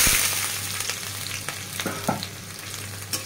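Spices sizzle in hot oil in a pan after a splash of water, for a fish curry with onion and chilli. The sizzle is loud and steady and fades slowly, with a few clinks and scrapes from stirring near the end.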